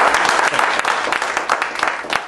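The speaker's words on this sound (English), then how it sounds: "Let's give him another round of applause." An audience gives the emcee another round of applause at a relationship-themed community event, with dense, steady clapping that is loud and close and runs the full length without voices.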